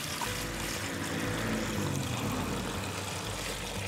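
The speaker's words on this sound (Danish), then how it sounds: "så jeg hælder de næste 10 liter i." Ten liters of water pour steadily into a soil percolation test hole dug in the ground, a continuous outdoor rushing splash that stays even throughout with no talking.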